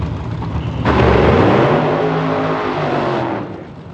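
Top alcohol dragster race car driven by Dan Page at an NHRA Division 1 event roars in suddenly and loudly, holding a steady, heavy engine blast for a few seconds before cutting away.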